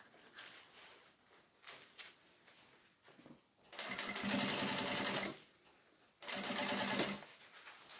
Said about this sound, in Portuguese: Podem fazer já um pesponto para acalmar aqui esta costurinha.